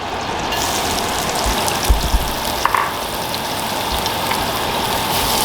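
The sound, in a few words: onions browning in light olive oil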